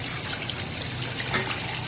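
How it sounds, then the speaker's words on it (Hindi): Water pours steadily into a pot of meat for yakhni broth, a continuous close splashing trickle lasting about two seconds with no voices over it. "इसके अंदर यखनी में पानी डाल रही हूँ"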